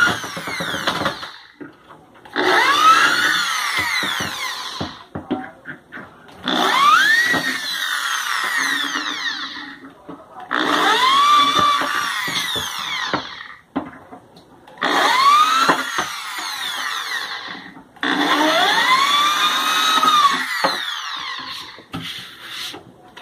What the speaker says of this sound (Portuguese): Agora aqui nós iremos fazer os furos para dar sustentação nas madeiras.